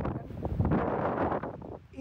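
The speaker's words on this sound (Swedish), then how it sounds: "svalkande vindar" Cooling wind gusts buffet the microphone during an outdoor walk, a dense, low rushing roar that swells and eases over two seconds, with no talking.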